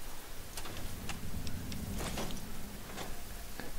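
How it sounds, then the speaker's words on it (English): Giant ants skittering in Fallout 3, heard as scattered faint clicking ticks over a low ambient game drone, with no talking. "I hear more skittering."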